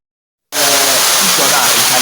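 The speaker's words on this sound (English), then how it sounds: "waterfall results from an opening at the top of the cave, which allows a gush to fall a distance of about 30 meters" Inside Enwo cave in Nigeria, a waterfall drops about 30 meters through an opening in the roof into a shallow pool. After a brief silence it breaks into a loud, steady, hissing roar that continues to the end.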